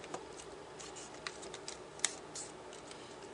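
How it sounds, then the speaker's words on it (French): Paper card stock for a communion invitation is glued and folded by hand, producing faint rustles, soft creases and a few light taps in a quiet room with no talking. "je colle d'abord un côté, je plie ma carte"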